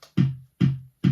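Overdriven kick drum from basic GarageBand drums, EQ'd with no bass and heavy mids, hitting three times at a steady pace, each thump ringing briefly with a gritty, boxy midrange tail, alone and fairly loud.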